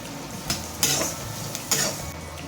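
Six or seven garlic cloves and a small piece of ginger are sautéed with a pinch of rock salt for paneer butter masala, giving a soft sizzle broken by several sharp scrapes and clinks of a spoon against the pan.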